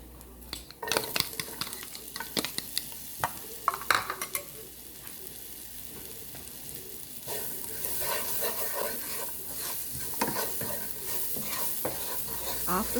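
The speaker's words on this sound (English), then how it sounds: "in the same pan we are going to continue to saute our onion" Chopped onion sautés in a pan with a steady soft sizzle, while a utensil stirs and scrapes against the pan in a few quick knocks early on, all fairly quiet and close.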